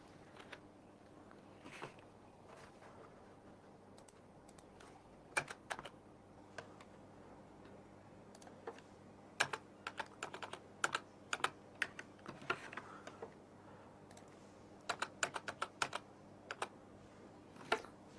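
Keys on a computer keyboard clatter in irregular bursts of quick, close, fairly quiet taps, with occasional louder single strikes standing out over a low hum.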